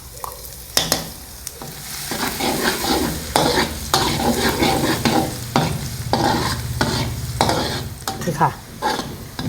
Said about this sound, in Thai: เอาไฟอ่อนนะคะ เวลาเจียวกระเทียม กระเทียมเราจะได้เหลืองกรอบ